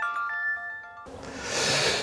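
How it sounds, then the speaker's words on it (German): A telephone rings with a short chiming tone pattern for about a second, heard outdoors while beehives are being inspected, before a loud rushing noise takes over. "Telefon."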